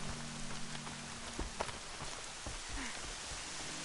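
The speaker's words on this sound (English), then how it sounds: "y'all you can stay in the hole in the ground while it pours rain" Steady pouring rain in the Horizon Zero Dawn video game, a continuous dense hiss of drops on surfaces with a few brief thuds, fairly quiet and without talk.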